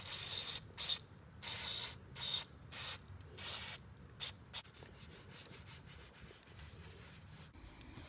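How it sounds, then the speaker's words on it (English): Brake cleaner sprayed in several loud, hissing aerosol bursts onto a car brake caliper on an Audi TT, followed by quieter rubbing and wiping. "We pick up some brake cleaner."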